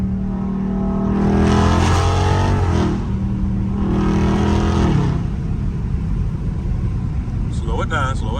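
Catless Dodge Challenger Scat Pack V8 revving hard while driving on back roads, loud rising and falling engine roar in repeated surges, with people talking over it.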